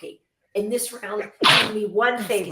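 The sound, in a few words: sneeze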